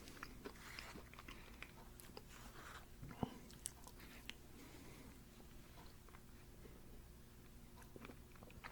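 Quiet, close chewing of a crunchy Dairy Queen ice cream treat, with faint crunches and small bites scattered through, soft and irregular, with no talking.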